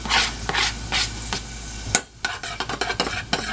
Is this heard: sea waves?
no